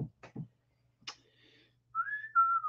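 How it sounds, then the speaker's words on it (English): A clear whistled melody rises and glides, preceded by a few short soft vocal sounds, fairly close and moderately loud. "Yes, good whistling."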